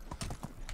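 Horse hooves clip-clop in the medieval survival game Medieval Dynasty, a quick close run of rhythmic thuds over less than a second with no talk.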